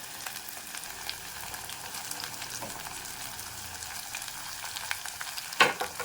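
Tomato and green chili fry in oil as part of an egg, capsicum and potato curry, giving a steady close sizzle throughout, with one brief louder clatter near the end.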